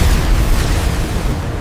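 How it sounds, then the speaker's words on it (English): Animated laser cannons fire and explode in a cartoon battle against a robot army, a loud, continuous rumbling boom with dense low-end blasts running through the whole stretch, no voices over it. "Sky lasers, fire!"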